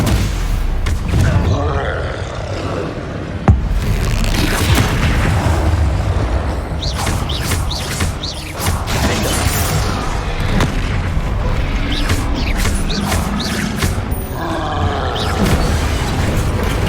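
Bombarda blasting spell in Hogwarts Legacy, several deep booming explosion bursts scattered among ongoing combat effects and grunts, fairly loud and close.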